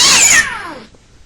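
A single cat meow, loud and close, a bright drawn-out cry that falls in pitch and fades away within about a second.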